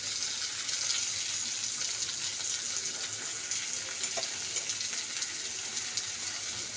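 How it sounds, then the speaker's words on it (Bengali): Onion frying with ground chili, coriander and cumin for a koi fish curry gives a dense, continuous hiss and sizzle, close and steady throughout with faint crackles and no talking. "এটা ভালো করে কষে নিই। এরকম করে ভালো করে কষে নিতে হবে।"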